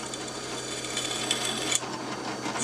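A drill bit freshly sharpened on a Drill Doctor 750X bores into a piece of steel, giving a faint, steady scraping whir with a small click near the middle.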